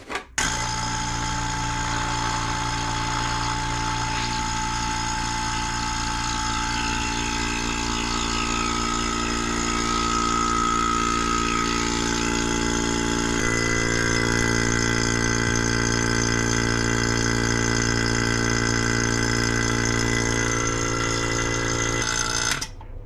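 A vacuum pump runs steadily in a woodworking shop, degassing a massive oak burl soaked in stabilizing resin; the motor drones loud and close with a constant mechanical hum and whine that shifts slightly midway.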